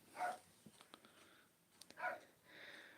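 A dog makes short barks and whimpering yips indoors during a live stream, two louder bursts with small yelps between them, fairly faint and without talk.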